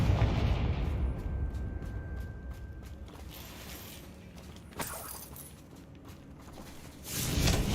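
A Confringo spell bursts in the video game Hogwarts Legacy, a sharp crackling blast with shattering, debris-like texture, followed by a quieter stretch and then a second loud surge of noise.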